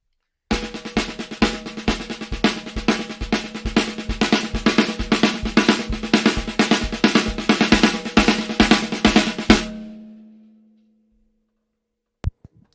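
Drum exercise progression played on a single drum, a fast even stream of strokes with accents, loud and close for about nine seconds before ringing out, followed by silence and one late tap.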